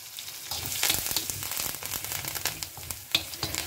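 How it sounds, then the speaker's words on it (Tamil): Green chilies, curry leaves and mustard seeds frying in hot oil, a busy crackling sizzle with sharp pops, close and without speech. "பச்சை மிளகா, கருவேப்பிலை. ஸோ இதெல்லாம் நல்லா பொரியட்டும்"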